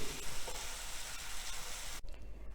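Vegetables being cooked for ulta vada hiss and crackle as they fry in a pan and get stirred, a steady close sizzle that drops away abruptly near the end.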